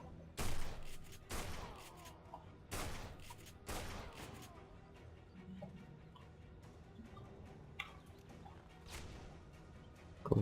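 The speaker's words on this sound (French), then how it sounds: "Fusil à pompe." Shotgun blasts in the video game Tribes: Ascend, several loud separated booms in the first half, then quieter game effects and ambience.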